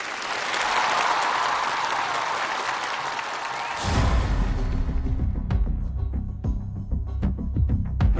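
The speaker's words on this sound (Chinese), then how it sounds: "来， 好， 掌声有请。" A studio audience at a televised challenge show bursts into loud, sustained applause that fills the room, then fades into scattered claps and rustling as the crowd settles.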